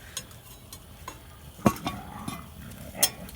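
Pork and beans are stirred in a pot over a fire on a Barrel House Cooker 18C, with sparse scraping and clinking of a utensil against metal and one sharper clank midway, close and fairly quiet.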